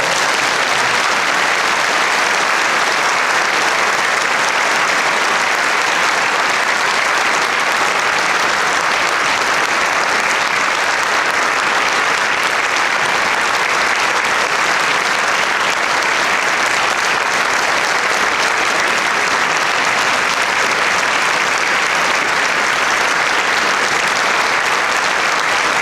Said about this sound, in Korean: 인사하실 때 뜨거운 박수로 같이 한번.